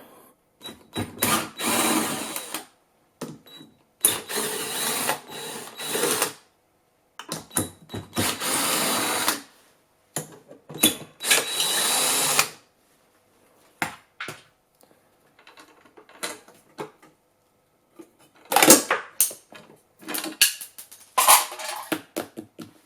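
A power tool spins bolts out of the end plate of a Kia Niro / Hyundai Ioniq PHEV battery pack in several whirring bursts of one to three seconds separated by pauses, close and fairly loud.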